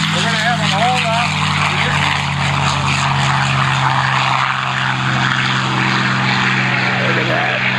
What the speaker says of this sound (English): Here comes the P-51.